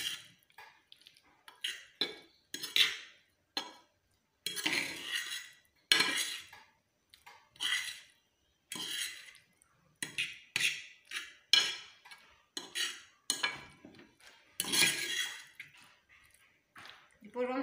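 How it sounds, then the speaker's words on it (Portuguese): Cutlery scrapes and clinks against a bowl while potato omelette ingredients with salt are mixed, with repeated short bursts of stirring separated by brief pauses, close and fairly loud. "E misturamos tudo."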